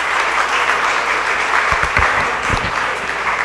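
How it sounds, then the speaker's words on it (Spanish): Audience at a lecture on parental rights and obligations giving loud, sustained applause to the speaker, a close, dense wash of clapping with a few low thumps in the middle. "Un aplauso fuerte para el maestro."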